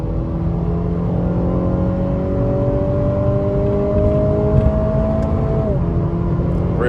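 A 2021 Acura ILX A-Spec with a non-turbo engine revs up under acceleration, its tone rising steadily before dropping at a gear change, heard from inside the car, loud and continuous.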